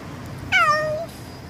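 A single clear meow from a cat, one short rising-then-falling call lasting about half a second against a quiet background.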